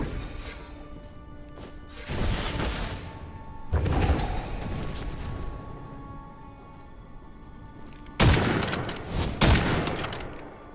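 In the Witchfire game, bursts of noisy rushing blasts and crashing impacts come in three separate waves several seconds apart, loud against a quieter ambient hum between them.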